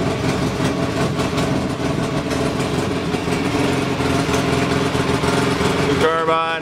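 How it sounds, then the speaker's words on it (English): A Polaris Sportsman 600/700 ATV engine idling a little high after a new carburetor was fitted, a steady loud close-up drone running throughout with a brief change near the end. "New carb on, still idling a little high"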